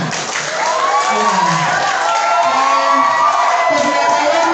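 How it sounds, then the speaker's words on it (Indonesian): A crowd of students at a school student-council candidate debate claps and cheers loudly and continuously, shouts and whoops riding over steady applause close by, with a voice briefly audible in the mix. "sekali lagi berikan tepuk tangan yang meriah"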